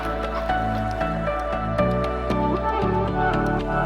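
Water drips and trickles at a cattle water trough in a Zimbabwean village, a steady run of small wet plinks and gurgles over a constant low hum, loud and close with no talking.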